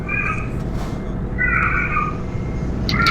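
A cat meows three times, drawn-out and fairly close, over a steady low rumble of a truck cab in a driving game; no one talks.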